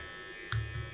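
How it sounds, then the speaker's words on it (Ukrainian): A low, steady electrical hum from an inductor choke smoothing a UPS sine wave for a pump, with a brief brighter buzz swelling halfway through, faint and close, with no voices. "Тобто це звук від дроселя."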